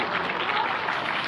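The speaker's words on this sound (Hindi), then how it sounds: "तालियां आपकी जरा जोरदार बजती रहें।" A crowd claps steadily and densely throughout at an outdoor Himachal Day ceremony, a short burst of sustained applause with no pause.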